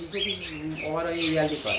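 Cockatiels at a breeding bird farm let out a quick run of loud, harsh squawks, several overlapping close together, while a voice talks underneath.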